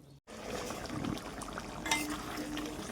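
Chital fish kalia gravy cooks on high heat, a steady bubbling sizzle with soft stirring clatter from the pot, briefly cut off at the start and then continuous throughout.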